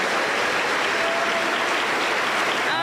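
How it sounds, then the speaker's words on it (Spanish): Strong, sustained applause from a congregation at a Pentecostal church anniversary service in Huancayo, many hands clapping in a thick, even roar that holds steady throughout, close and full. "Vamos a recibirle con fuertes aplausos para el Señor Jesús."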